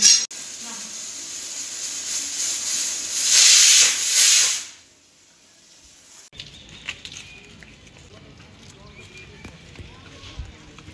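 Steam hisses loudly from a pot of boiling vegetables for about five seconds, swelling and then cutting off, followed by a quieter stretch of faint patter and light household clatter.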